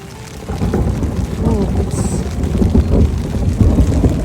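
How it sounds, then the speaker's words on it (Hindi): Heavy rain pours steadily during a storm on a Himalayan mountain trek in April, with low thunder rumbling underneath, loud and continuous, after a quieter start. "उंडी गार्ड में बहुत ज़्यादा बारिश हो रही है, आवाज़ इतनी आ रही है।"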